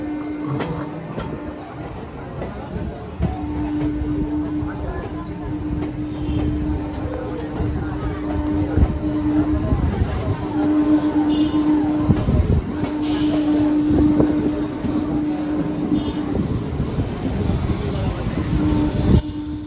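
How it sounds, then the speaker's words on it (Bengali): A Kolkata Circular Rail train passes right beside homes, a steady loud rumble of wheels and carriages running throughout, with a sustained metallic squeal or tone and some louder bursts midway. "একদম গা ঘেঁষে যাচ্ছে ট্রেনটা"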